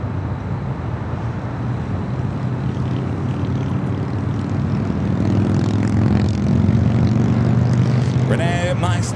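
A large airliner arriving on the north side at Los Angeles International Airport (LAX) gives a loud, steady engine roar that builds through the clip, with voices talking over it.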